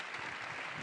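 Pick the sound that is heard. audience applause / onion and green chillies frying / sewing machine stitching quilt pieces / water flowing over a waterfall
audience applause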